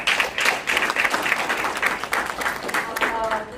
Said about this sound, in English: I would like to give them another big round of applause